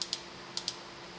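A computer keyboard is pressed for shortcut keys while working in Cinema 4D: four quiet, crisp key clicks arrive in two quick pairs with a pause between them.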